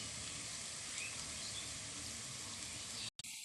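Battered jackfruit fritters (bora) sizzle in hot oil, a dense, even hiss and crackle that runs close and constant throughout, cutting off abruptly near the end.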